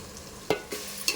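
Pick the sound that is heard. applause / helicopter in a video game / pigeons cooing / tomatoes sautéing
tomatoes sautéing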